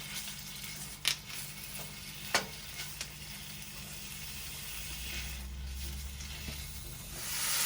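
Chorizo fries in oil in a pan, giving a quiet steady sizzle as it is broken up, with a few sharp scraping knocks of a utensil early on and the hiss swelling slightly toward the end.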